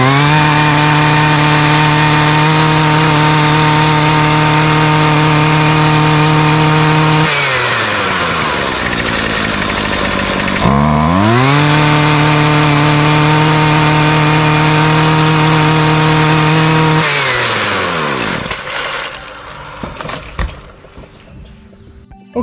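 A gas weed trimmer's two-stroke engine screams steadily at full throttle, drops briefly to a lower idle, revs back up to a sustained high whine, then winds down and sputters to a stop.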